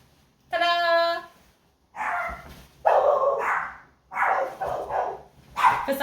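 Dogs inside a caravan let out a high whining yelp, then a run of loud, sharp barks in uneven bursts, close by and with no talking over them.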